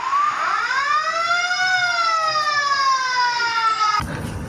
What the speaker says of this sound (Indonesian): Lihat teman-teman, ternyata ada mobil damkar.